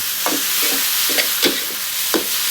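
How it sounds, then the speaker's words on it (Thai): Glass noodles stir-fried in a pan with dark sweet soy sauce, fish sauce, sugar and oyster sauce, giving a steady soft sizzle broken by a few sharp scraping strokes of the spatula, close and alone. "เสร็จแล้วผัดให้เข้ากัน"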